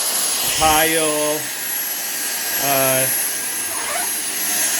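Dyson V6 cordless vacuum cleaner running on a floor, a constant high-pitched whine throughout while someone talks over it in two bursts.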